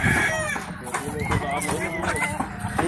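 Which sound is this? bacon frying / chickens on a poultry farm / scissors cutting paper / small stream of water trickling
chickens on a poultry farm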